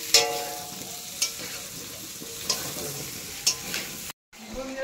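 Vegetable curry with potato sautéing and sizzling in a pan, a steady frying hiss broken by four sharp scrapes of a stirring spoon at regular intervals, up close with no talk.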